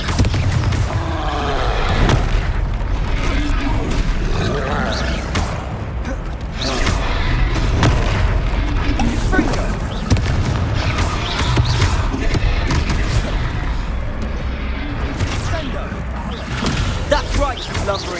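Confringo spell blasts in Hogwarts Legacy on Xbox Series X land as repeated booms inside a dense, constant wash of battle noise, with a voice shouting spell names throughout.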